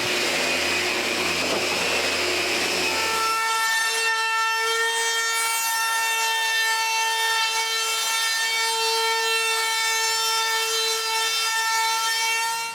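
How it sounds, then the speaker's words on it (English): A power sander works steadily across a cedar patio table, giving a continuous high whine with a rasping rub that runs unbroken for the whole stretch, loud and close. "I also need to sand all of it and round over all the edges"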